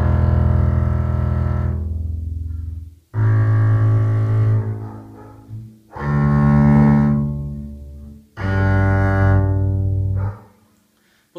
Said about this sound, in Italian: Ok, adesso vi faccio sentire le corde a vuoto con l'arco.